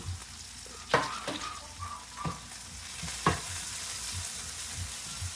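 Onion and garlic sautéing in a pan, a soft continuous sizzle broken by a few sharp scrapes and clinks of stirring, close and fairly quiet, no talk.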